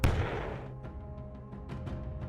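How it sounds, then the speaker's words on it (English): A tank fires its cannon once in a sharp, loud boom at the very start, followed by a rumbling decay and faint engine noise with a few small thuds from a moving column. "The tank makes a shot, after which the column continues to move."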